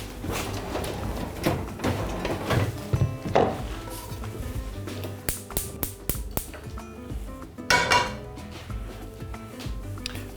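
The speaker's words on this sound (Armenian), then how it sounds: "Տապակը հայտնվում է գազօջախին։" A frying pan is set down on a gas stove with a series of metallic clanks and knocks, some sharp and close, spread irregularly among quieter kitchen handling noises.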